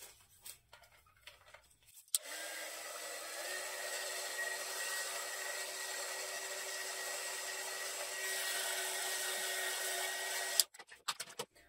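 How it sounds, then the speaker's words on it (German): Hair dryer blowing to dry green paint on a craft project, switched on with a click, running as a steady loud whir for about eight seconds, then clicked off amid light handling noises. "Dazu föhne ich aber trotzdem hier erstmal diesen Grünton"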